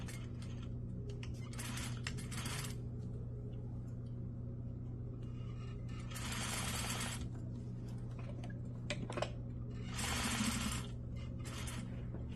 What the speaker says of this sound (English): I'm just going to stitch in the middle of my zipper tape.